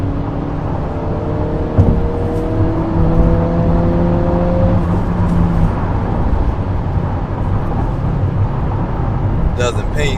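An Acura Integra engine climbs through the revs under full-throttle acceleration after a downshift, a close steady whining drone rising in pitch inside the cabin, with a voice talking over it.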